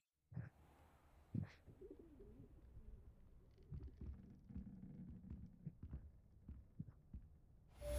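Pigeon-like coos from a bird in Hogwarts Legacy, soft and intermittent over a low ambient game background, with a few sharper taps and chimes near the start.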